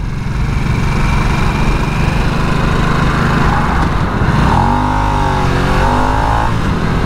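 A 2022 Harley-Davidson Nightster 975 engine rumbles steadily at close range, then revs up with rising and falling pitch as the bike accelerates.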